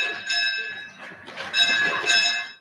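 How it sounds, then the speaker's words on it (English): An electric school bell at Blagdon Primary near Bristol rings in two sustained, shrill bursts with a bright metallic tone, loud and close, with no voices. "the school bell signals the start of the day at Blagdon Primary near Bristol"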